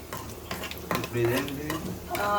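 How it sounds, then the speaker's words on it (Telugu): Prawns frying in a home kitchen pan, brief sizzling broken by stirring scrapes and metal utensil knocks against the pan, close and fairly loud. "రొయ్యలు ఫ్రై చేస్తున్నాను"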